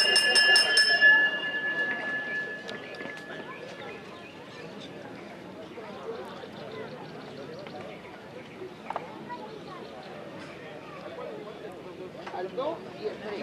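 Bell ringing at an Argentine trotting racetrack before a race, its clear ringing tone strongest in the opening second, then fading beneath a steady crowd murmur and distant chatter, with a few faint clip-clop sounds of horses.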